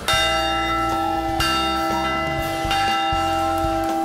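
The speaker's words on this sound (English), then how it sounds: "Ring the Padres bell." A Padres bell rings loudly at Petco Park stadium during a home run derby event, with several sharp strikes whose rich tones sustain and overlap continuously, with no talking.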